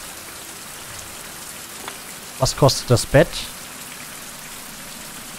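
Steady rain falls across a wilderness setting in the survival game Fountain of Youth, a constant hiss throughout while someone briefly speaks in German partway through.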